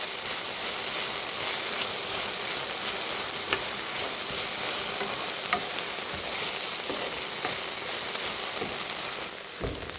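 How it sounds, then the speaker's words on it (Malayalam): Okra, onion, green chilli and garlic sizzle steadily in a pan, a continuous close frying hiss with occasional stirring scrapes and no talking. "നമ്മുടെ വെണ്ടയ്ക്കായും സവാള ഉള്ളി, പച്ചമുളക്, വെളുത്തുള്ളി എല്ലാം ഒന്ന് നല്ലതായിട്ട് വഴണ്ടിട്ടുണ്ട്"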